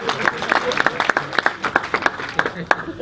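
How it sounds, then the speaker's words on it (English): Wedding guests give the best man a sparse, uneven applause made of distinct individual claps from a modest crowd, with some talk mixed in. "Round of applause."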